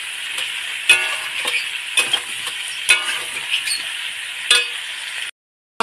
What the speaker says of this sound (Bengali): আমটা একটু কষিয়ে নিয়ে তারপরে গুড় দেবো।